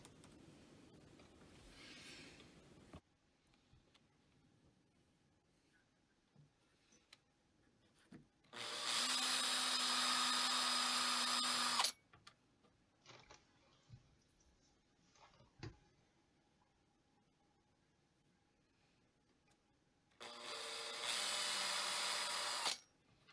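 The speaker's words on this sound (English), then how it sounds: "I'm going to pre-drill them." A power drill whirs loudly in two bursts, about three seconds each, pre-drilling holes in plywood, separated by quieter handling and scraping noises.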